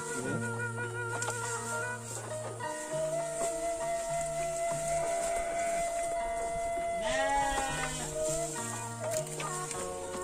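Sheep bleating close by in a quiet village setting, several wavering cries in a row, with steady background noise.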